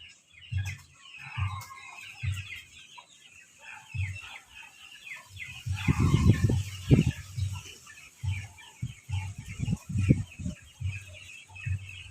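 Several chickens cluck and squabble close by, with bursts of louder agitated clucking and faint birdsong in the background.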